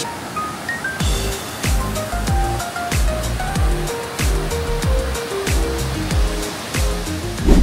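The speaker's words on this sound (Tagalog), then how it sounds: "ang ganda ng waterfall" A waterfall at Wulai, Taiwan, pours in a steady loud rush of falling water, heard close with a continuous roar and no talk.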